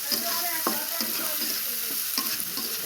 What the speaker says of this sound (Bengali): ভেজে নিব এই যে সরিষের তেল দেওয়া হলো